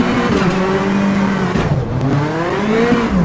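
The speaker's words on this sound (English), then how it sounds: "Before the corner, turn hard into it and pull the handbrake." A rally car in Richard Burns Rally swings through a handbrake turn, its engine droning loud and close with rising and falling revs and a brief tyre scrub midway.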